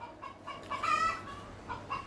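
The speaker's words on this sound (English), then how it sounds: "I don't know if you can hear me now over the chickens" Chickens cluck in a series of short, moderately loud calls close by, with brief pauses between them, during an at-home workout.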